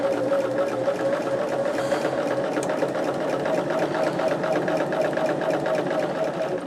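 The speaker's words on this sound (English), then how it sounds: "we are going to sew this at 1/4 inch" Sewing machine stitching a quilt border at a quarter-inch seam, a steady close rhythmic whirring hum that runs unbroken and alone.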